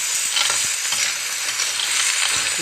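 Clams being stir-fried in a hot pan, with steady sizzling and repeated scraping stirs of a spatula close by, no voices.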